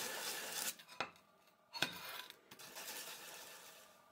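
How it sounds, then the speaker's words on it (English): A file scrapes the sharp cut edges of extruded aluminum in a few short rasping strokes with light metallic clicks, close and quiet, no one talking. "The sharp cut edges should be smoothened with a file or sandpaper."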